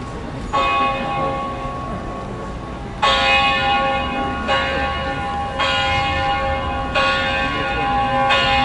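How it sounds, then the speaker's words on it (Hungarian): A large 1736 kg church bell, cast in 1938, tolls slowly, each deep resonant strike ringing out and decaying, about five strokes at uneven intervals. "elkészült egy harang, egy 1736 kilós harang"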